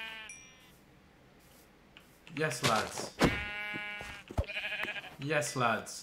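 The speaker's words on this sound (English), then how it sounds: "Oh, sheep!" Sheep in the Minecraft video game bleat in a few short, nasal cries spaced a second or so apart, fairly close, with brief casual speech around them.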